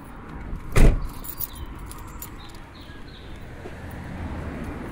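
A van door opens or shuts with a single loud thud, and keys jangle briefly just after it. A low, steady rumble of traffic and engine runs underneath, and no one speaks.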